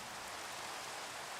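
Minecraft rain hisses in a steady, even wash of falling drops, soft and continuous with no other sounds.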